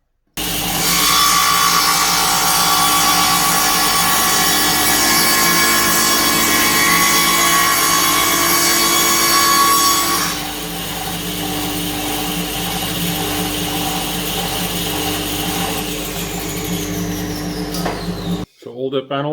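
A power saw cuts raised wooden panels for rail and stile doors, a loud steady whine for about ten seconds, then a lower rough running tone until it abruptly stops.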